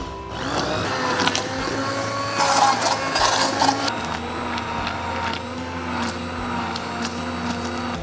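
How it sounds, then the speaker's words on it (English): A steady motorized whir of a stick blender blending strawberries, running continuously, loud and close, with a brief harsher grinding surge partway through. "now we can blitz it up with a stick blender"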